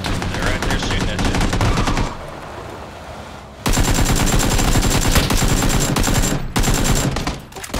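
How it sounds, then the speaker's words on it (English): Rapid automatic gunfire in PlayerUnknown's Battlegrounds bursts loudly in dense rattling volleys, pauses briefly to a quieter stretch, then resumes in sustained close bursts with a short gap before ending. "They're right there shooting at you."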